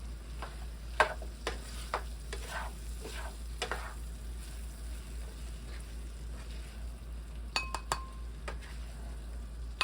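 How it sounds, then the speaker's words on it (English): A pot of trailer park chili made with wieners and beans gets a final stir on the stove, a soft steady sizzle under scattered scrapes and clinks of a utensil against the pot, close and fairly quiet. "So I'll give it a nice final stir."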